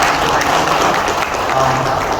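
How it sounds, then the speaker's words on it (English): Steady, full applause from a group at a first aid and CPR training session, a continuous dense patter of many hands, with a voice briefly heard underneath. "can we have a big round of applause for ma'am?"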